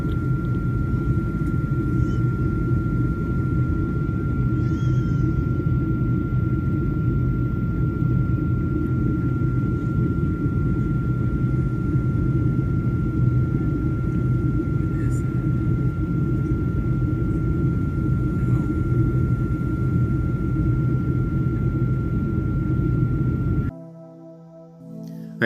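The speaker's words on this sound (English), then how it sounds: "This next one was filmed from an airplane." Steady, loud airplane cabin rumble heard during flight, a dense continuous drone with a faint sustained whine above it, cut off abruptly near the end.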